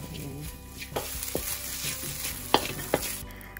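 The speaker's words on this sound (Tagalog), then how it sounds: "Lulutuin ko muna yung ating tinapa. Nilagyan ko ng oil para hindi siya dumikit sa ilalim" Smoked fish (tinapa) frying in oil in a pan, a steady close sizzle with a few sharp crackles and pops, no voices.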